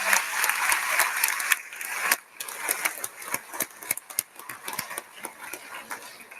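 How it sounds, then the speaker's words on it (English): Scattered audience clapping at a Humphrey School commencement ceremony, uneven and thinning out after a brief swell, with sharp individual claps standing out, no speech. "how about you all give them a round of applause"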